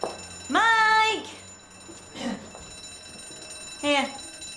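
A smoke alarm shrills in three bursts of repeating beeps, the first long and the others brief, with quiet background noise between.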